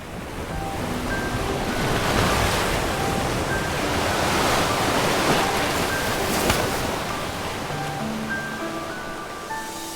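Ocean waves in the video game Love and Deepspace, a broad continuous wash of surf swelling and receding over an open stretch of sea, steady and moderately loud with wind-like hiss and faint musical tones above.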